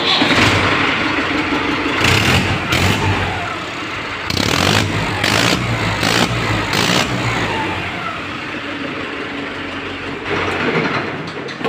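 A Mahindra Arjun 555 tractor's diesel engine cranks and starts, then settles into a loud, steady idle with a few rev bursts, heard up close outdoors with no speech.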